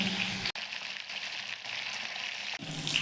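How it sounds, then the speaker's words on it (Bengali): Pomfret fish frying in a pan as the pieces are flipped to the other side, a loud, continuous close sizzle broken by two brief dips where the fish is turned. "মাছগুলি এক পাশ ভাজা হয়ে গেছে, এবার উল্টিয়ে অন্য পাশটি ভেজে নেব"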